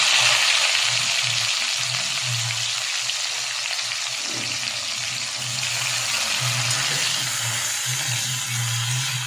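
Cumin seeds, dried red chillies and onion sizzle in hot oil, a dense, loud and continuous hiss with soft low stirring bumps underneath, heard up close and without voices.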